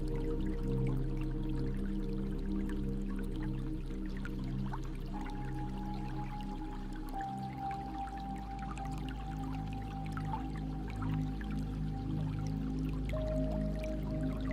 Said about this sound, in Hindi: पानी की बूंदों का आवाज